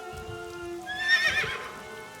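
Horse in The Somnium Files video game gives a single short whinny midway, rising and quavering over quiet background game sounds.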